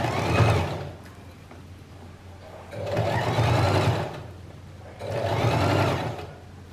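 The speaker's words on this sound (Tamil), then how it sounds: "டாப் ஸ்டிச் பண்ணும்போது நம்ம என்ன பண்ணணும்னா, இந்த ஜிப் இருக்கிற பக்கம் டாப் ஸ்டிச் பண்ணக்கூடாது" A sewing machine top-stitches a zippered fabric pouch, running in three steady bursts with short pauses between them, close and fairly loud, with no talking.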